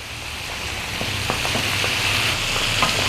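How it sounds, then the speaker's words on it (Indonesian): Shrimp fry in hot oil in a pan, giving a loud, continuous crackling sizzle with scattered sharper pops throughout, steady and close with no voices. "Nah, ini kita goreng kurang lebih hanya sekitar 1-2 menit aja"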